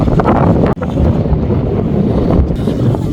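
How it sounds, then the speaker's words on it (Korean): Strong wind gusts batter the microphone outdoors on a clear, cold day in Victoria, a loud, continuous roar with a brief dropout partway through. "어 바람 많이 분다 바람이 불어서 지금 춥습니다"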